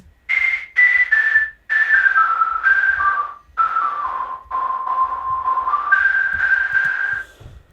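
Synthesized whistle lines in an electronic music track: a series of sustained, pure-toned whistle notes that glide and step between pitches in short phrases, loud and alone.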